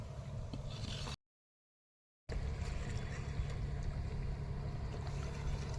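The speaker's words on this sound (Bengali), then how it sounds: "একটা লঞ্চ যাচ্ছে, তা কুয়াশায় পুরো ঢেকে আছে।" A launch boat passes through dense fog on a Sundarbans river, heard as a faint, distant low engine drone with soft wind. The sound cuts out completely for about a second before the drone resumes.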